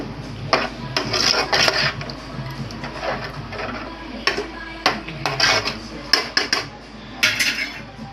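Metal utensils clink and scrape against a cooking pot while tamarind fish curry is prepared, a run of irregular close clatters and knocks with no talk.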